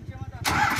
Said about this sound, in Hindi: भाई ने कर लिया है ट्रैक्टर स्टार्ट,